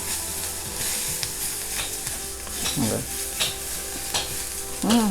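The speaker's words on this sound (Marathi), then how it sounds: "गॅस कमी करायचा आणि मग आपल्याला हवं तर एक चमचा तेल घालायचं आहे बघा आणि चांगला मसाला त्याच्यावरती परतून घ्यायचा" Masala sautéing in oil in a pan for a dried-fish chutney, a continuous sizzle under scraping and stirring of a spoon against the pan, with a brief voice near the end.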